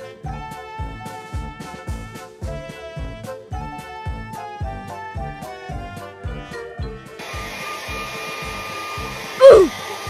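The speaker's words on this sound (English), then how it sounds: "Dryer, a tool to treat insomnia." Upbeat music with a steady beat plays, then a hair dryer switches on and blows with a loud, steady whoosh, followed by a brief squeak.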